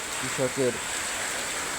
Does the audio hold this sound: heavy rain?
yes